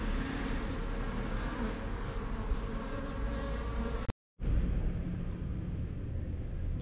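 Honeybees hum densely around a hive during a quick early-spring inspection, a continuous close buzzing drone with a bumblebee among them, cut by a very brief gap midway.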